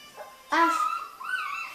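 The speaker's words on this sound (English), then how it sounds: "Dogs make that sound?" A dog gives one short, close bark-like yelp followed by a drawn-out whining whimper, with a faint little sound just before.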